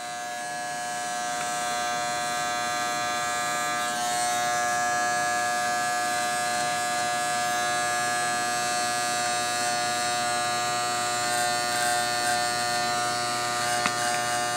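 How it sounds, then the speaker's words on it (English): Electric hair clippers run steadily, shaving the back of a client's head for a low taper haircut, a constant close buzz with a bright whine that holds unbroken throughout. "Now we're going to shave up to about 1/2 inch below the taper."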